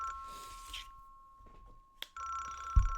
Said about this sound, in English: Just then the phone rang. It continued ringing in the dark.